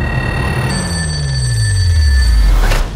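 An FBI night-desk telephone rings with a steady electronic trill, close and clear, while a deep descending rumble swells underneath.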